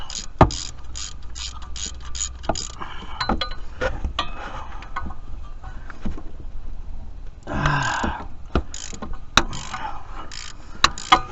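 A ratchet wrench breaks bolts loose on a junkyard 1996 Jeep V8, giving sharp bursts of rapid metallic clicking separated by pauses, with occasional clinks of tools close by.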